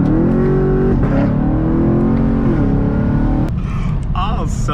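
Chevrolet Camaro SS with a Corsa valved cat-back exhaust and double X-pipe, a loud deep V8 rumble revving and holding, then easing off into a throaty idle-like burble, heard up close.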